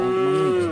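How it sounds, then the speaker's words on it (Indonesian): A water buffalo gives a single short, loud, close moo, a low tonal call lasting under a second with no other sounds around it. "di sini ada suara kerbau"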